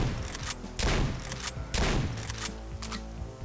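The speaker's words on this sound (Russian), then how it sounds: "Автомат Калашникова." Kalashnikov assault rifle fire in the shooter game Postal 2, loud rapid bursts of shots with booming impacts, two heavier volleys close together and lighter shots trailing after.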